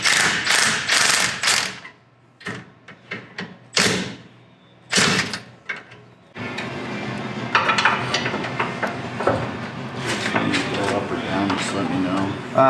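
Ratchet wrench loosening the tow hook bolts on a Ford F250 with dusty, rusty off-road wear, a close series of rapid clicking bursts with metallic clanks and thuds, later a steadier run of clicking and scraping, with a voice speaking at the start.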